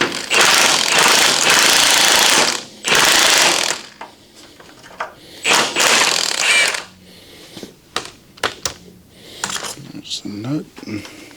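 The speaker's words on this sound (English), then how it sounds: "Now let's get a 5/8 wrench." A ratchet wrench works a nut on a 1983 Chevrolet K10 truck in a shop, with loud long bursts of rapid clicking early on, then sparser clicks and handling noises near by.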